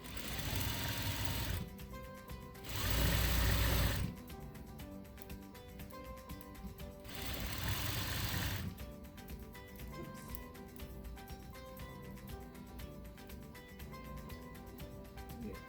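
Sewing machine stitching a swimsuit seam 3/8 inch from the edge, running steadily and close with a few louder bursts as the speed rises, alone with no talk.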